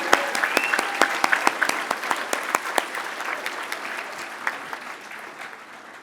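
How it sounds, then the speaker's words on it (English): An awards ceremony audience claps in a burst of applause with sharp individual claps, fading gradually over several seconds. "Let's give a big round of applause for our employees in mail services."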